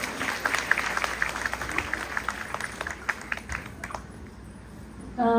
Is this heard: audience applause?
yes